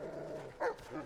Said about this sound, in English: let's take out this dog